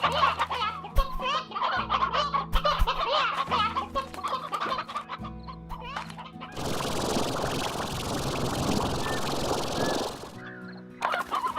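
Roosters and an elder rooster in the video game Slime Rancher cluck in choppy repeated bursts over a background drone, then a loud rushing hiss takes over for several seconds before the clucking briefly returns.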